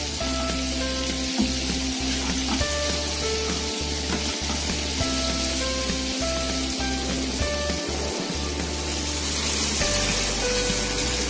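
KFC-style chicken pieces frying in hot oil at medium heat, a steady loud sizzle and crackle throughout with faint clinks of a utensil, no speech.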